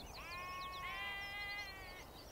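Soay sheep on a Hebrides island give one long, wavering bleat that lasts about two seconds and stands out clearly over steady outdoor background noise.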